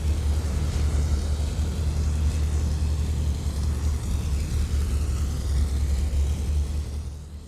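Propeller engines of a Super Constellation airliner in a flight simulator game, heard from outside the aircraft as a loud, steady, droning roar with a deep low rumble that eases slightly at the end.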